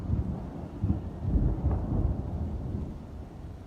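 Low rumbling thunder rolls on a rainy day over a steady wash of rain, a dull continuous roar with a swelling peak, no voices.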